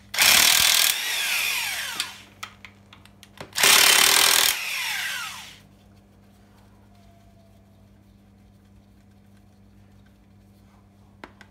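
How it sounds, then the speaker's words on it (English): Power tool, likely an impact gun, removing bolts during a 7.3 IDI diesel engine teardown, two loud bursts of about two seconds each with a pause between, followed by quieter clatter. "Literally taking off any bolt I can get to."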